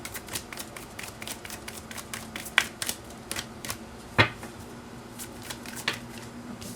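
Tarot cards being shuffled, a quiet run of quick papery flicks and taps with a few sharper snaps, close by and without voices.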